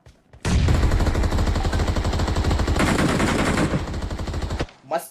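Rapid automatic gunfire in the mobile battle royale game BGMI, a dense, loud burst of fast shots that runs unbroken for about four seconds and then cuts off abruptly, with no talking over it.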